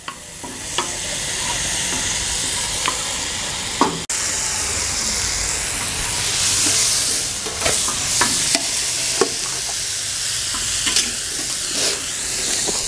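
Boiled peas going into sizzling spiced masala in a pan for a street-style ragda, a loud steady frying hiss with repeated sharp scraping and clattering strokes as the mixture is stirred.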